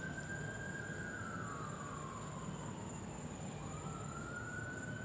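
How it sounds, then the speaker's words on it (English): A fire engine siren wails steadily at a distance, its pitch sliding down as it passes, over a constant background hum. "Oh, it's a fire engine."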